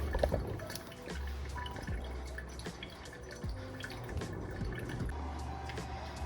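Brewing coffee drips and trickles into a pot in quiet, irregular drops over a soft running-liquid wash, close by and with no voices.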